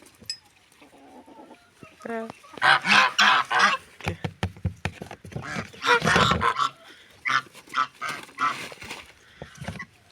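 Farmyard ducks, including drakes, give repeated loud honking calls at close range in bursts and clusters, with people talking among them.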